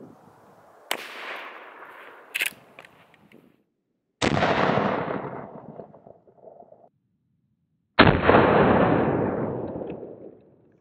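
Lever-action gun firing Federal .410 000 buckshot: a few loud, sharp blasts, each followed by a long decaying roar and echo, with brief mechanical clicks of the lever action between shots.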